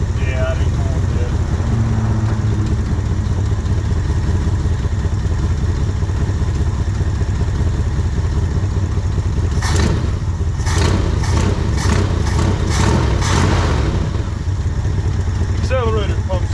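A 1969 Ford Ranchero V8 running again after 40 years of sitting, a loud, rough, steady idle close by with bursts of clattery revving midway, as people talk over it.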